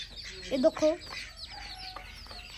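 Chickens in a village yard, kept alongside ducks, cluck close by in a few quick, fairly quiet bursts, and a person briefly speaks over them.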